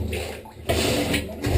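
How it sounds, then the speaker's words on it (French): A plunger works over a clogged drain pipe, giving close, wet sloshing and gurgling bursts of water and suction in a few rough surges. "on va faire un gros appel d'air avec la ventouse au-dessus de la canalisation"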